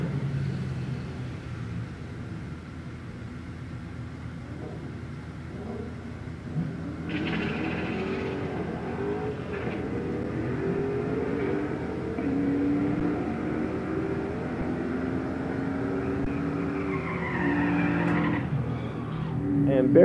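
Drag racing cars in a heads-up bracket race at a Wednesday night drag strip: a distant engine drone swells into a louder roar with tire squeal as the cars launch and race down the strip.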